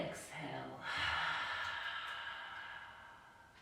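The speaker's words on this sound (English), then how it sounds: "and exhale." A breathy exhale during a yoga class, soft and airy, following a brief intake of breath and tapering off gradually, faint and close.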